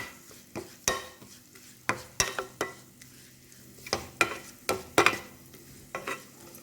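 Spoon stirring fried onion with chili powder, turmeric and garam masala in a pan, a run of sharp scraping clacks at an uneven rhythm over a low sizzle, close and fairly loud, with no talk.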